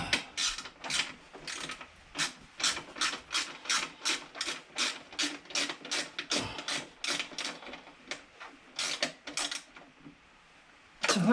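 A socket ratchet clicks in a fast, steady run of sharp ratcheting strokes while tightening an 8mm bolt on the petrol tank of a Power Devil PDG4350P petrol mower, close and loud, with a brief pause near the end and no talk.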